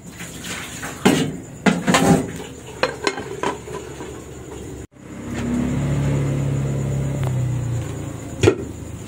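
A lid is set down over a cooking pot of okra, saluyot and alugbati for Filipino law-uy, with several clanks and knocks of metal cookware, followed by a steady simmering bubble and a final clink.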